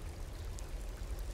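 Water running down in Skyrim's Enderal mod, a steady rushing stream or pour that stays even and close for its whole short span, with no talk.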